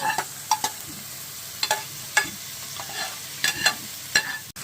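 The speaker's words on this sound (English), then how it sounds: "Now we stir in." Spoon stirring salted, peppered meat seasoned with oregano in a pan for spaghetti sauce, making a string of short, crisp scraping knocks at an uneven pace over a low sizzle, close by, with no talking.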